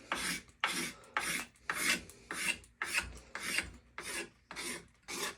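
A hand tool rasps along rough wood edges to smooth them, making about ten loud, close scraping strokes in a steady rhythm with short pauses between them and no talking.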